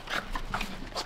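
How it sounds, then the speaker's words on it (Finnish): A dog greets arrivals at the door of a family home at Christmas: excited whimpers, pants and short yelps, close and lively, with claws and movement in the background. "Valmistaudu koirahyökkäykseen."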